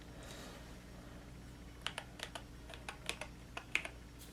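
Light keystrokes on a DrunkDeer A75 mechanical keyboard with illuminated keycaps, a quiet, irregular series of about a dozen crisp clicks spread over a few seconds, close up with no talking.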